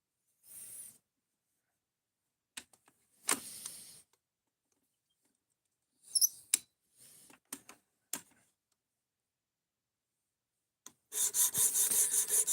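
A knife is drawn across stones on a Work Sharp Precision Adjust sharpener, giving short scattered rasping strokes separated by silence, then a quicker run of repeated scrapes near the end.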